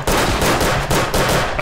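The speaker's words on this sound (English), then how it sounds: "I'm just shooting people" Rapid rifle and machine-gun fire in the World War 1 trench-warfare game Verdun, a loud, dense burst of overlapping shots with sharp repeated cracks and no pauses.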